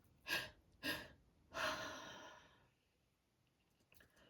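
Two quick, sharp inhales in succession followed by a longer, heavier breath out, close and unvoiced as a calming breathing exercise, then near silence with a faint rustle.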